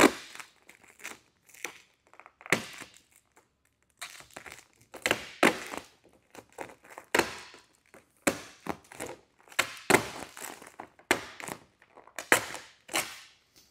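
Protective film peeled off car paint, crackling and crinkling in irregular bursts with short pauses between pulls, close and fairly quiet.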